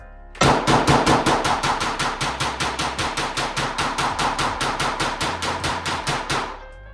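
A rifle fires a rapid string of about thirty gunshots at a target with a hot barrel, sharp, loud, evenly spaced cracks ringing out one after another without talk, then stopping abruptly.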